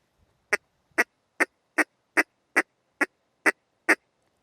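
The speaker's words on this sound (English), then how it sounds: "just make a simple tick in your call" A duck call blown with a closed-hand tick, no quack opening: nine short, evenly spaced clicks in a steady rhythm, close and clear with nothing else around them.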